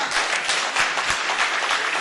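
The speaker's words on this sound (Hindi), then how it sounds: "आपकी तालियां बहुत कमजोर हैं" An audience at a Hindi poetry recital claps steadily for two seconds, a dense, close patter of many hands with a few louder individual claps and no talk.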